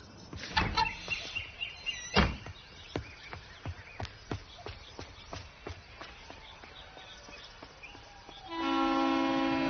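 Train at a railway station, with a series of regular clacking beats as wagons roll past, a loud burst early on, and a sustained horn-like tone near the end; no talk over it.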